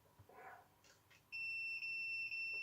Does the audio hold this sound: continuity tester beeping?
yes